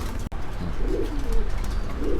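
Pigeons in cages at a pigeon farm in Tangail give soft, low coos within a dense, noisy background hum, with a brief click near the start.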